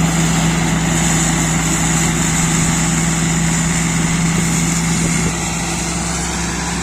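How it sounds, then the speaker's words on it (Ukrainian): Steady, loud engine drone of a Sampo 500 combine harvester threshing barley, a constant low hum and broad mechanical roar, running continuously without pause and easing slightly near the end. "Сьогодні молотим ячмінь"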